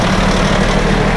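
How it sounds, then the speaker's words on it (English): A Con Ed utility truck's engine rumbles steadily in city traffic, a close, continuous low drone with no talk over it. "Look at this, rolling alongside a Con Ed truck."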